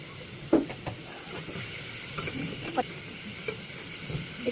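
Bottle gourd for halwa roasts in hot oil in a kadhai, giving a low, steady sizzling hiss broken by a few soft clinks of stirring.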